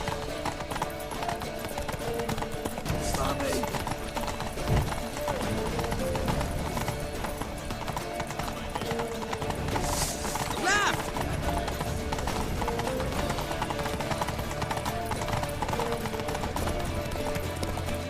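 A horse galloping in the Witcher 3 video game, a rapid, steady clip-clop of hooves that runs throughout, with a horse's whinny and shouted voices over it.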